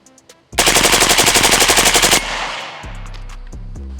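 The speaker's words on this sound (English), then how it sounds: "And you can actually do single taps on FRT mode, but obviously in regular semi." Suppressed 5.56 rifle with an FRT trigger firing a fast string of about twenty rounds in under two seconds, loud and close, followed by a ringing tail and a few metallic clicks.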